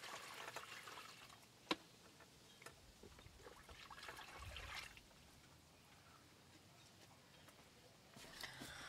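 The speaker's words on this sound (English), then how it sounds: "I'm just going to water it from this reservoir here." Water from a pitcher trickles into the reservoir of a Greenstalk vertical planter, a soft steady pour and dribble heard close and quietly, with a sharp knock partway through and no talk.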